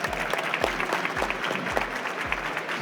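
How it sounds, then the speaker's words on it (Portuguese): An audience at the Web Summit Rio 2024 conference applauds to welcome a speaker to the stage, a brisk burst of many hands clapping under a faint, regular low thumping from the hall's background music. "Uma salva de palmas!"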